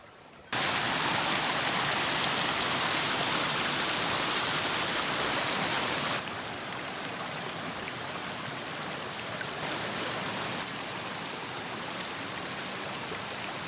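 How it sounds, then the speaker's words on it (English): A small clear-water creek runs beside a Pennsylvania forest hiking trail, giving a steady, close, even rush of flowing water that starts abruptly and continues with no talk. "we're coming down now and there's a little creek with clear water"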